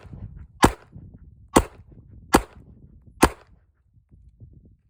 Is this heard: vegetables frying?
no